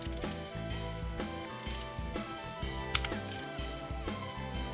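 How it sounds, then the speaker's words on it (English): Torque wrench ratcheting on spark plugs in a 2002 Volkswagen Passat V6 wagon, a string of close, quick clicking ratchet strokes in irregular bursts, with a brief sharp metallic snap near the middle. "Torque the spark plugs to 22 foot-pounds or 30 Newton meters"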